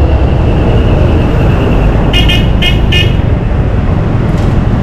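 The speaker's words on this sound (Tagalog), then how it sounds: "busina ka ng busina" A car horn gives several short, sharp toots in quick succession over loud, constant roadway and engine noise, with one fainter honk shortly after.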